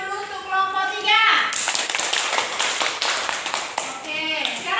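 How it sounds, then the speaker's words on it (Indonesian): A class of schoolchildren applauds a group of classmates, a burst of clapping that swells after a teacher's voice, with children's chatter mixed in and speech returning at the end. "Kita kasih tepuk tangan dulu untuk kelompok 3."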